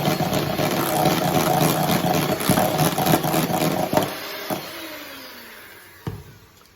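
An electric mixer whirs loudly as egg yolks are beaten into biscuit dough, a steady buzzing drone for about four seconds before it switches off, followed by a couple of clunks as the motor winds down.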